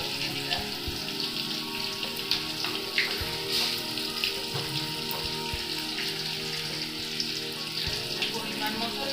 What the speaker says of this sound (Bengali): দিয়ে মশলাটাকে একটু কষিয়ে নেব